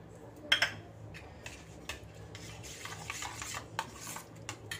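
Finely chopped onions go into a pan with mixed spices for dahi pyaza, followed by close scraping and stirring with a few sharp utensil clinks against the metal and a faint background sizzle.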